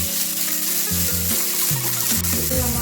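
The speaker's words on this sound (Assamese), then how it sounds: "পিঁয়াজখিনি প্ৰথমতে মই ভাজি ল'ম" Onions sizzle over a high flame in a kadai, a continuous close frying hiss with soft stirring shifts and a low tonal hum running through it.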